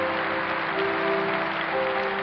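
A church congregation claps in welcome, a dense wash of applause heard through a sustained amplified tone, steady and unbroken throughout with no talk.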